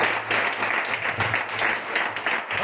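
A church congregation at a fasting service applauds steadily, a dense wash of many hands clapping together, loud and close, with no talking over it.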